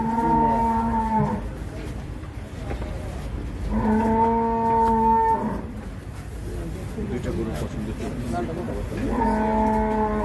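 Cattle at a large livestock market in Bangladesh low in three long, loud moos spaced several seconds apart, with people talking throughout.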